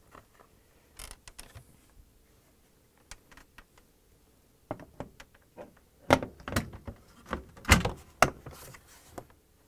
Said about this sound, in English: I'm going to open the door, swing it open